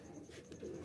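A pigeon gives a soft, low coo, brief and faint, with no talking.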